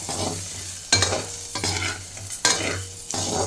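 Spatula stirring egg fry in a pan after chili powder goes in, scraping strokes in bursts roughly every second and a half over a soft steady sizzle, close and fairly loud.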